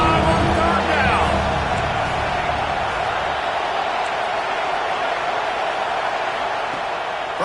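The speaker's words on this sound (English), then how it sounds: "the Buckeye crowd alive on 3rd down." A large Ohio State Buckeye football stadium crowd roars steadily on third down against Miami, a broad continuous wash of cheering that fades slightly over several seconds.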